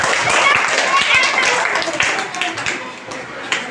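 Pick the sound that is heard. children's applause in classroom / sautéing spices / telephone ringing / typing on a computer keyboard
children's applause in classroom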